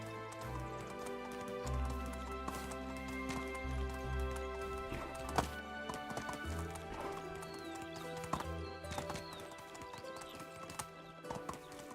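A horse gallops in the medieval video game Medieval Dynasty, a steady run of clip-clop hoofbeats with a brief whinny over a tonal game music backdrop, moderately close.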